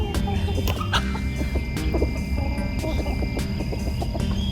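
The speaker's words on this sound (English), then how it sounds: "There's roosters and guineas and chickens" Chickens, roosters and guinea fowl clucking and calling around a farmyard, with steady outdoor background noise and occasional sharper bird calls.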